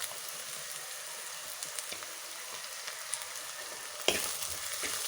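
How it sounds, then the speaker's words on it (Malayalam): Onion sizzles steadily in hot oil with crushed ginger, green chili, garlic and curry leaves for a chicken curry. Faint stirring scrapes come through, and there is a louder burst of frying near the end, close up and without talk. "നമുക്ക് നന്നായിട്ട് വഴറ്റി കൊടുക്കാം."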